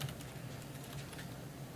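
Computer keyboard typing by a clerk at a city council meeting: a soft, steady patter of key clicks over a low room hum, fairly faint and continuous with no voices.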